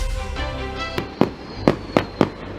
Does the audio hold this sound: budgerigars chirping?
no